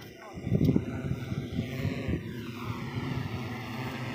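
An agricultural spraying drone's droning propeller buzz hums steadily over a sugarcane field, with a voice speaking briefly over it near the start.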